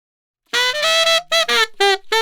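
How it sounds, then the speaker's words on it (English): Saxophone phrase played with a growl, a long gritty held note followed by several shorter rough-edged notes, close and loud with no talking. "I'll play this phrase and add some growling to it."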